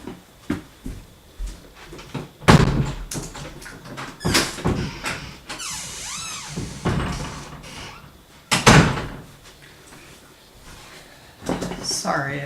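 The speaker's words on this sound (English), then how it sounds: "hold on just a second, close my door" An indoor door is shut with a few knocks and one louder thump, plus squeaks and handling rattles, and a person talks around the noises throughout.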